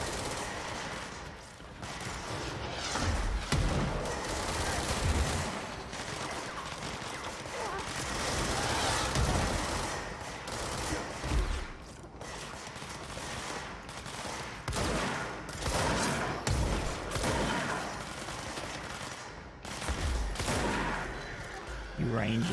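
Rangers' gunfire in the video game Control crackles in dense, overlapping volleys and bursts, loud and nearly continuous, with brief lulls between flurries and occasional voices mixed in.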